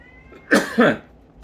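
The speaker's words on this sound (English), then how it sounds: "pardon me for the coughing" Two quick, harsh coughs in a row, close and fairly loud, with quiet before and after.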